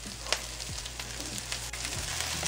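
Almond slivers and green beans frying in olive oil in a pan, giving a steady close sizzle with occasional crackles and a light stirring scrape over a low hum.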